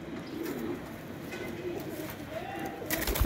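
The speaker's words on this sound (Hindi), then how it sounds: "चेक कर सकते हैं आप कबूतर।" Pigeons offered for sale coo steadily in low, soft repeated calls close by, with faint background noise and a brief louder rustle at the end.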